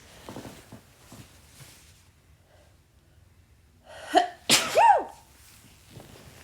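After quiet shuffling and soft breaths, a sharp sneeze bursts out with a gasping intake, close and fairly loud, followed by faint movement.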